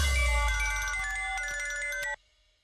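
A phone ringtone plays loudly as a bright electronic tune for about two seconds, then cuts off abruptly, leaving quiet.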